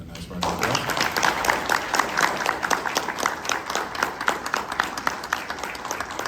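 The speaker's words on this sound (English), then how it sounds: "So can we give these gentlemen a nice round of applause?" Sustained audience applause thanks the guests of a lettering panel at HeroesCon 2024, a comic convention; dense, steady clapping from a crowd fills the room after a brief quiet start and continues without letting up.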